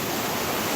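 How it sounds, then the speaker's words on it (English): A creek in Kings Canyon National Park rushes close by at near-whitewater force, a dense, steady roar of water with no pauses. "it was not a small flowing creek, it's borderline"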